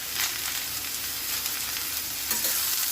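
Onion and tomato sizzle and fry in a pan, a steady close hiss that carries a few soft stirring scrapes throughout, with no voices.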